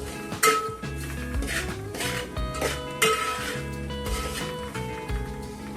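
Garlic masala is scraped out of a pan into a serving dish, with a spoon clinking and knocking against metal in irregular close strikes and short scrapes, no talking.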